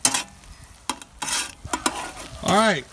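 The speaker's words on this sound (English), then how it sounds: "once you got the garlic in there and it's beginning to fry" Chopped garlic frying in butter in a pan on a kettle grill for New Orleans BBQ shrimp, with a soft sizzle broken by several sharp utensil scrapes and clinks, and a brief rising tonal sound near the end.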